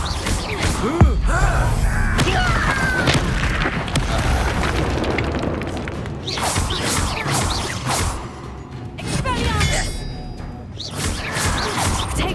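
A Confringo fire spell bursts in the Hogwarts Legacy video game with a sudden booming explosion near the start, followed by a sustained, rumbling, crackling wash of battle noise.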